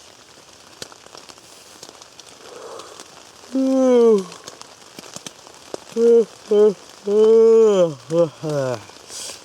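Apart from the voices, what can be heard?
heavy rain pouring outside tent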